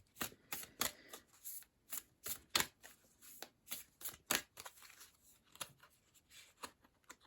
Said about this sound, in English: I am pulling a Gateway of Light Activation Oracle card for you guys